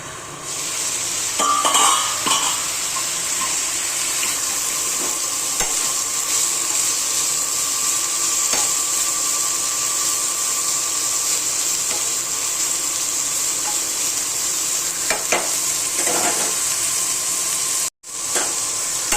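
Steady, loud sizzling fills the pan as bitter gourd stir-fries, with occasional spatula scrapes and clinks from stirring; no voices.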